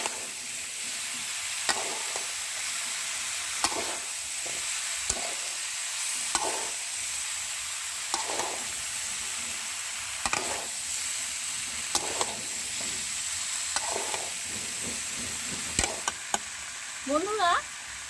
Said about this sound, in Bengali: আমি 10 মিনিট মতো তেলের উপর দিয়ে একটু ভাজা ভাজা করে নিয়েছি